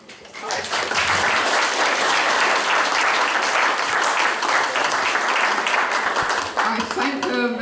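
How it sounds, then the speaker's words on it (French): An audience at a twinning reception applauding, sustained loud clapping from a roomful of people that swells quickly, holds steady, then fades as a voice begins. "Elle mérite vos applaudissements."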